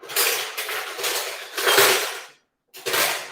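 Spoons fetched from a drawer in a home kitchen, with cutlery and dishes clattering in several loud, close bursts of metallic rattling, broken by a brief pause.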